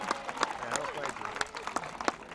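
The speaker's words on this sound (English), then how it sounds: "So let's give her a nice big round of applause." Brief burst of audience clapping at a sea lion show at Blackpool Zoo, scattered sharp claps from a crowd mixed with background chatter.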